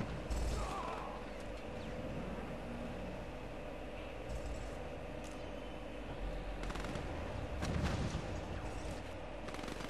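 Command & Conquer 3 skirmish with two Scorpion tanks and a Raider buggy fighting an APC: faint scattered gunfire and mechanical clatter over a low rumble, with a few louder bursts.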